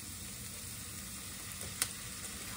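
Tomatoes stir-fry on high heat, a steady broadband sizzle hissing throughout with one brief sharp clink partway, no voices.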